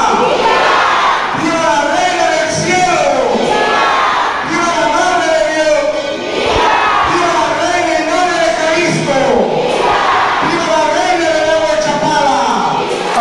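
A large crowd cheers and shouts loudly and continuously at a church procession for an image of the Virgin, with waves of voices and clapping that swell and ease over several seconds, filling the space throughout.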